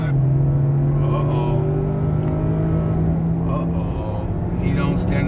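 A car pulls away hard from a green light in a street race, its engine a loud, steady drone that climbs slightly in pitch, with a voice faintly present under it.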